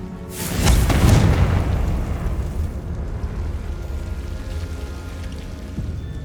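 In Hogwarts Legacy, a Confringo fire spell goes off as a deep, booming explosion that swells within the first second. A rumbling, crackling tail trails off into a steady low roar.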